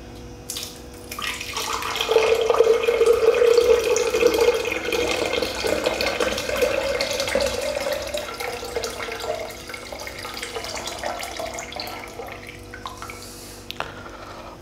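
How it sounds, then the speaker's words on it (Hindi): Water being poured steadily into a milkshake blender jar as the first step of a guava drink, a continuous close splashing stream that slowly deepens in pitch and tapers off, with no talk. "तो सबसे पहले हम इसमें मिल्क शेकर में ब्लेंडर्स में हम पहले पानी डालेंगे।"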